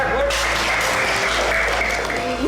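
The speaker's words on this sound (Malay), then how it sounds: "Tepuk tangan ke Imran." An audience claps steadily for a student at a school event, a dense, even applause that fills the whole moment at constant loudness.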